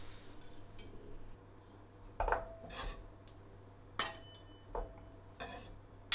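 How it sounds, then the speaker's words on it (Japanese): A kitchen knife chops frozen Italian parsley on a board in a home kitchen, a few sharp separate cuts with pauses between them, close and fairly quiet, alone without talk. "イタリアンパセリ刻みます。"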